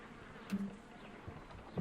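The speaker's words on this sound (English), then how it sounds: "Holmes, where have all these wretched bees come from?" Bees buzz steadily at a low level in a Kew Gardens scene of the Sherlock Holmes: Crimes and Punishments video game, a soft continuous insect drone with a few brief louder swells.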